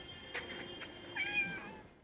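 A pet cat named Tintin gives a single drawn-out meow, fairly close and moderately quiet, preceded by a few faint taps.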